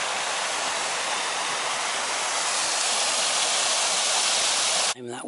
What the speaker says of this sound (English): The name of that waterfall is Pistil Gwyn